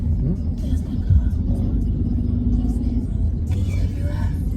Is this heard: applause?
no